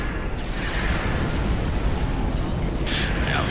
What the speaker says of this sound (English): that warp core explosion nearly took me out